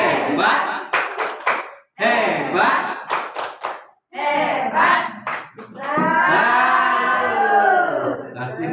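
A rhythmic salute clap from an audience at an Indonesian teachers' workshop, in short patterned bursts with pauses between, ending in a longer sustained round of clapping, with voices speaking over it in places.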